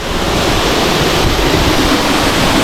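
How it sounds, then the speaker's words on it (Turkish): A waterfall near Lima, Peru roars with a loud, continuous rushing spray of water, dense and unbroken, with no one speaking. "Burası da dediğim şelale. Şurada da ayrı bir şelale var."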